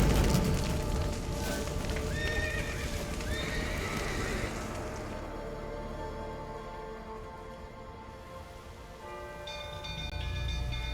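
Horses neigh and whinny with clip-clopping hooves in The Witcher 3 video game, the calls loud and close over a steady background of game ambience.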